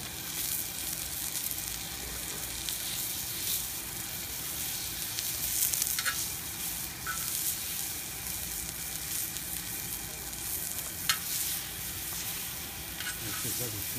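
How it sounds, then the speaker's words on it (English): Steak sizzles loudly and steadily on a hot barbecue plate, a constant crackling hiss with occasional sharper pops. "She's certainly sizzling straight away"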